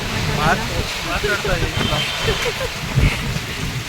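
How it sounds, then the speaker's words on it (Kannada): A sudden rain shower pours down outdoors in Mysuru, a dense, steady hiss filling the scene, with people talking close by under the rainfall. "ಸಡನ್ನಾಗಿ ಮಳೆ ಬಂದ್ಬಿಡ್ತು"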